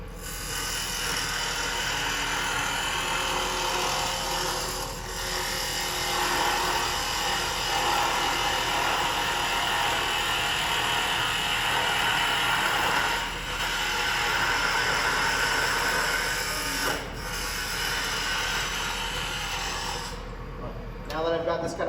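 A spindle turns on a wood lathe while a chisel shapes it, giving a steady, loud, hissing scrape that runs continuously with brief dips, and a voice can be heard over it.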